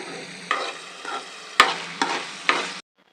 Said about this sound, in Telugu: మధ్యలో కూరని కలబెడుతూనండి, లేదంటే అడుగు మాడిపోతుంది.